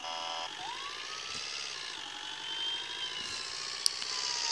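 A video game ambulance siren rises and falls steadily over a constant engine hum, fairly close and loud, with a brief sharp click near the end.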